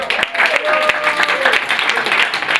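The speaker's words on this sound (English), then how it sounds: "Round of applause" Audience applause for a speaker named Caitlin at a casual gathering, a dense wash of clapping lasting a few seconds with a voice and crowd noise mixed in.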